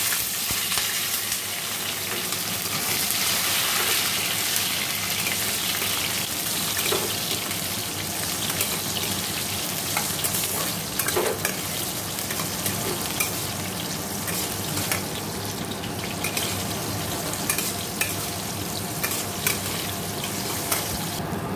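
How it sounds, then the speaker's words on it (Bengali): Dry red chillies sizzle in hot oil in a wok, a steady broadband crackle lasting throughout with occasional sharper pops and light stirring, no talk. "দেখো কড়াইতে তেল দিয়ে 5 শুকনো লঙ্কা দিয়ে দিই"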